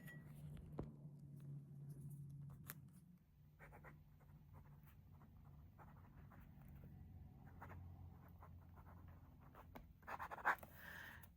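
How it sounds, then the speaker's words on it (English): Medium-nib Nahvalur Eclipse fountain pen with rose gold trim writing on paper, a soft continuous scratchy stroke sound with small taps and pauses, close and quiet, no talking. "It's a nice, smooth writing experience."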